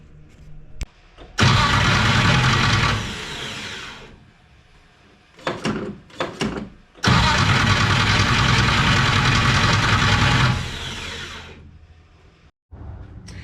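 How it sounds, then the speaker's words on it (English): A Dodge Duster car engine cranking hard in two long bursts of starter whir without catching, separated by short clunks and quiet gaps, close and loud. "what you guys saw there was engine failed to start"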